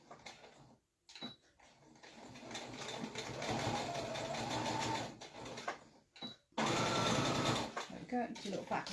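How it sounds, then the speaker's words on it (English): A sewing machine stitches a quarter-inch seam across the end of a folded fabric strip for a pincushion, running in two long steady bursts with a short pause between, close by, with someone talking faintly. "I'm going to sew a seam on the end of each, just 1/4 inch"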